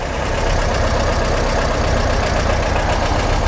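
A Speedster's carbureted engine idles steadily while its carburetors are balanced, giving a loud, close, continuous rumbling drone with a faint rhythmic pulse and no talking.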